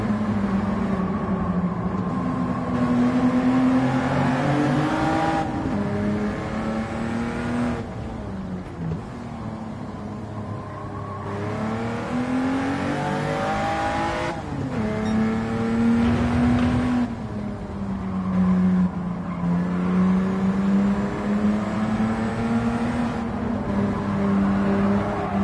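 Toyota Yaris GR engine in Gran Turismo 7 revving and shifting through gears over a long run, the pitch repeatedly rising and dropping with each shift, loud and continuous with no talking.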